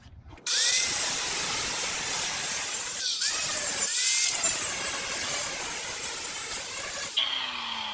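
Angle grinder cuts through a metal bump stop on a 1967 VW Type 3 Squareback, a loud, harsh whine starting abruptly and running steadily with brief dips, then winding down at the end.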